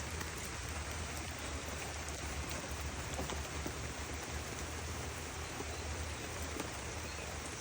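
Heavy rain pours steadily over a food forest, a dense, even hiss of drops on leaves and ground with no pauses and no voices.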